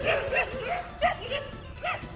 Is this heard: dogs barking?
yes